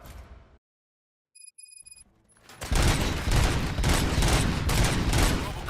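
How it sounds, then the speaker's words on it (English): Gunfire bursts out in the RoboCop: Rogue City video game, a dense, loud, sustained volley of rapid shots after a quiet stretch with a few electronic beeps. "Gunshots? What's going on?"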